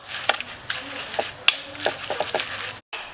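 Close, wet squishing and squelching as hands knead glass noodles with sauce, in irregular soft bursts, with a brief silent gap near the end.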